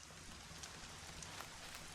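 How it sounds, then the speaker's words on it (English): Steady rain falls in the video game Horizon Zero Dawn, a soft, even hiss of drops hitting surfaces, heard alone with no talk. "Rain's not so bad."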